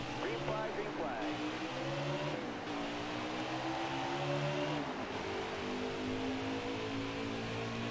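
Race car engines in the NASCAR Heat 5 video game, 1998 mod at Phoenix, drone and rise in pitch with repeated gear shifts as cars run close together, while a voice talks over them throughout.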